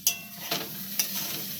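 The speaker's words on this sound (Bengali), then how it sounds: "আলু করলা ভাজা বসিয়েছি," Potato and bitter gourd frying in a pan give a low, steady sizzle with a few brief stirring scrapes, close by and moderately loud, and no one talks.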